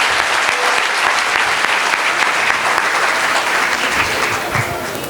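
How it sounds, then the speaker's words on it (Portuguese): A church congregation applauds during a service, dense and loud, sustained steadily for several seconds before easing slightly at the end. "Os que podem, tomem seu assento aplaudindo a Jesus porque Ele é bom."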